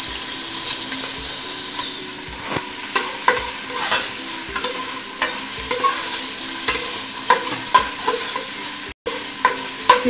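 Half an onion and chopped garlic sauté in a hot pan, a steady close sizzle broken by regular scraping stirs of a utensil across the pan, with no talking.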